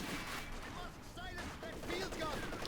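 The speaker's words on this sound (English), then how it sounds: "Maxim's going to bring this Raketenwerfer under fire" A Soviet Maxim machine gun fires in Company of Heroes 2, a faint, distant rattle of rapid shots running continuously beneath a busy battlefield wash of noise.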